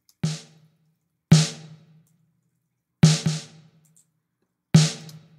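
Four separate snare drum hits, each with room ambience and reverb added in Studio One. Each strike is crisp, and its tail decays quickly in an uneven rhythm, with one quick double hit among them.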